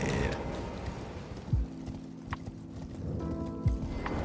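Horse hoofbeats in the Elden Ring video game, a few clopping hoof strikes with mechanical clanks over a dense game ambience, fairly close and moderately loud.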